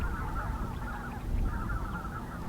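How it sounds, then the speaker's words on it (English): A flock of snow geese honks continuously at a distance in misty weather, many overlapping calls blending into a steady chorus over low rumbling background noise. "And I could hear a flock of snow geese,"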